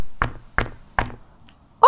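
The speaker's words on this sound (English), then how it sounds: "Should we knock on it again?" Three firm knocks on a hard surface land at a steady, unhurried pace, each a sharp, loud thump with a short decay, followed by a faint tap and the start of a voice at the very end.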